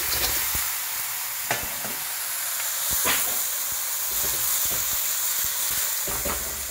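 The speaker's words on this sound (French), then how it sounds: "ces bruits de coquilles qui se frottent aux parois" Mussel shells scrape and clatter against a hot pan amid a steady, loud sizzle, with scattered sharp clicks and knocks, as mussels are sautéed in black bean sauce.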